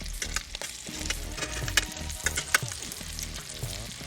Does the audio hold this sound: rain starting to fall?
no